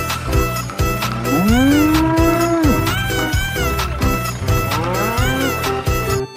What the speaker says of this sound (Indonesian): Wow, yang ini sapi perah.